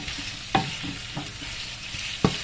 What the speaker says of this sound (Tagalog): Parang ipiprito ko lang to saglit.